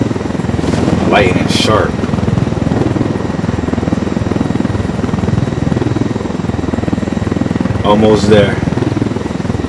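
Helicopter flight in the video game Ghost Recon Wildlands, a steady broadband rotor and engine drone running loud and continuous throughout, with people talking over it in two short bursts.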